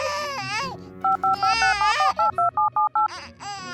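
A phone dials a call in a Barbie play scene: a rapid string of about ten short, evenly spaced keypad tones sounds alongside a crying baby's wails, loud and close.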